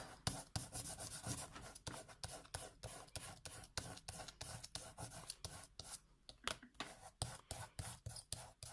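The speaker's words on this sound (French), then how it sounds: "je viens retirer le drawing" Dried masking fluid is rubbed off watercolor paper for a painted bookmark, a quiet run of quick repeated scrubbing strokes with an uneven rhythm, close by and with no talk.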